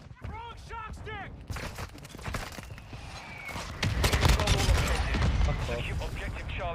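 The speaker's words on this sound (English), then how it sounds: "Hostile mortar strike near your position." In the video game Warzone, a dense mix of gunfire and booming mortar impacts builds to a heavier barrage, with in-game voices heard over the battle.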